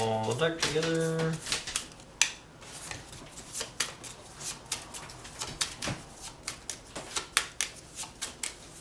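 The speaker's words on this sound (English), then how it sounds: "Shuffle the deck together." A deck of Transformers TCG trading cards is shuffled close by, giving a run of quick, papery riffles and clicks after a brief tonal sound at the start.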